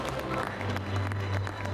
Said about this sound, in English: I think we need bigger round of applause for all these winners